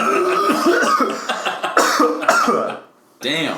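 Someone coughs several times in short, harsh bursts, close by and mixed with talking, then a brief pause before a final sound.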